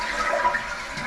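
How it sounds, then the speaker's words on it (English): A household toilet with a faulty fill valve flushes close by, a loud rushing swirl of water that holds steady through the moment before starting to ease off. "I flush the toilet."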